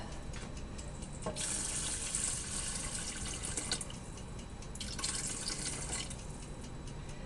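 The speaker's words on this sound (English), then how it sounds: "So I'm going to get adding some more water to it until I'm satisfied." Tap water runs steadily into a pot of rice, a continuous splashing flow with a few surges and drips, close by and alone without talk.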